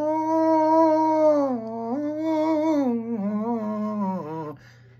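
A voice imitates a guttural, nasal howl in the manner of a blues moan, one long sustained wavering tone that slides downward and breaks off near the end, loud and close with no other sound.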